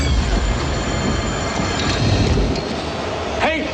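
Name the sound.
speeding subway train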